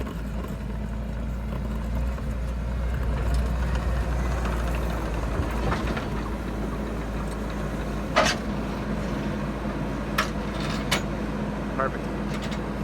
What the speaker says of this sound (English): Dirt Perfect himself's gonna load the skid steer for me.